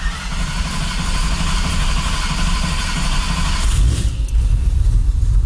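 A muscle truck engine fitted with Holley Sniper EFI cranks and tries to fire, a steady rumbling churn that swells louder near the end, heard close with no speech.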